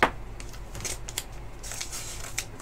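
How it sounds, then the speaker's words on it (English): A strip of tape being handled for an art journal page, a sharp snap at the start followed by soft crinkly rustling and light crackles, close and quiet, no talk. "Now we're going to take another strip of tape."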